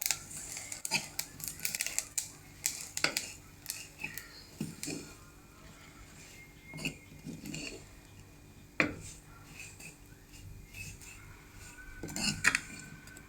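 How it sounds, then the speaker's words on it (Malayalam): A spoon scrapes and clinks in a pan while coconut curry masala with coriander powder is stirred for an anchovy curry, producing irregular close metallic taps and scrapes over a quiet background. "നമുക്ക് നല്ലതുപോലെ ഒന്ന് ഇളക്കി കൊടുക്കാം"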